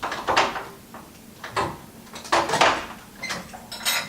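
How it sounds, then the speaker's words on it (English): A Pilates reformer box being lifted and set back onto the end of the reformer, giving several bumps, knocks and soft scraping thuds at close range with no talking. "Carefully come off the box and we'll put the box back at the end of the reformer."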